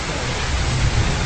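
Steady rain while a small group heads home, a dense, even hiss of broadband noise with a low rumble underneath, continuous and fairly loud with no voices.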